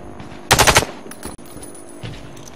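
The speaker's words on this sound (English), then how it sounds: "Hit all the targets with your sniper rifle." Sniper rifle fire in the shooter game Warface on a training range: a sharp, loud cluster of rapid cracks, followed by a softer single report and faint mechanical clicks.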